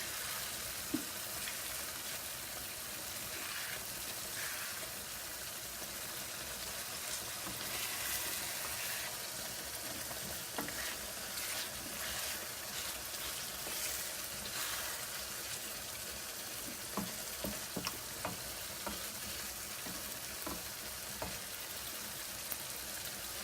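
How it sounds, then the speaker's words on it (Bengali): Steady hissing sizzle of koi fish frying in hot oil in a pan as they are flipped, continuous and close, with occasional sharp pops and crackles and no talking. "মাছগুলোকে এখন আমি উল্টিয়ে দিচ্ছি।"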